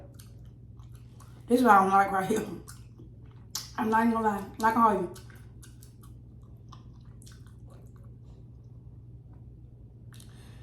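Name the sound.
chewing green lip mussels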